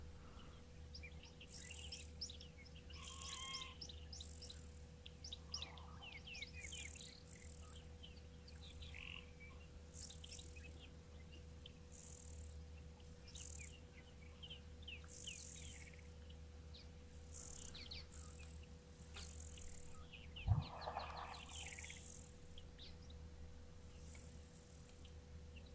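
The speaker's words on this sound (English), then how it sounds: "just listening to the birds and to all the choruses." Birds sing in a quiet outdoor nature chorus, with high chirps and trills scattered over a steady low hum and frogs or insects in the background, plus one brief thump.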